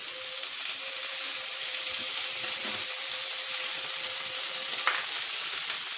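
Vegetables for chicken vegetable spaghetti stir-fry over high heat, a loud, continuous close sizzle and hiss with faint scraping from stirring, steady throughout and with no talk.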